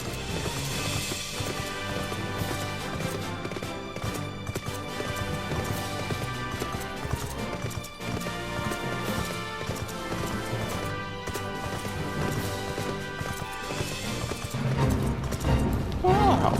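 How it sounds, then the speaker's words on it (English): Horse hooves clip-clop during a ride in the video game Final Fantasy XIV, a steady galloping rhythm mixed into dense game music with voices talking over it. "Taking my horse. My horse is on me."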